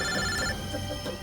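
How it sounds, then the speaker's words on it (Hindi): A telephone rings in short, bright electronic bursts, a quiet ringtone heard briefly. "बॉस का फोन है, तुम लोग खेलो।"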